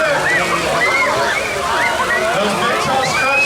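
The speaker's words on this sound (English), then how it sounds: "these big blue things fill with water and then they eventually will splash" Giant blue water buckets tipping and splashing at Gilbert Regional Park's splash park in Gilbert, Arizona: a loud, continuous rush and slosh of water with bright splashing texture, with voices mixed in underneath.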